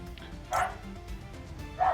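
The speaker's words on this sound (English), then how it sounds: "Dog's going crazy." A dog barks twice in quick, sharp bursts a second apart, close and moderately loud over a low background hum.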